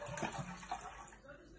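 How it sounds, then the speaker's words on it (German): A container full of water is emptied into a bowl, producing a short, steady splashing gush that runs close and moderately loud. "Jetzt schüttet ihr das ganze Wasser drauf."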